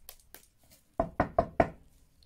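Four sharp knocks on a front door, evenly spaced and close, following a few fainter taps at the start, with no voices.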